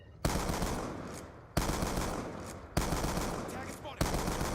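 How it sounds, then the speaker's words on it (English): Four heavy, evenly spaced blasts ring out from the M216 fully automatic shotgun in Black Ops 2, each one loud and sharp, with its boom fading out before the next shot. "Now we have the M216, so which is a fully automatic shotgun, but it only has 4 shells"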